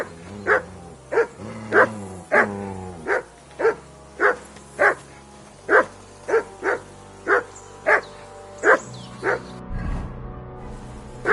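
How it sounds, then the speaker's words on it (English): A dog barks repeatedly in a steady series of loud, close barks, about a dozen over several seconds, with some whining tone between and a brief scuffle near the end. "Call off that damn dog before he wolfs down the last of our mates."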